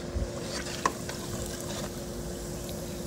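Whole bluegill fish fry in hot oil, a steady quiet sizzle and bubbling with a faint clink near the start.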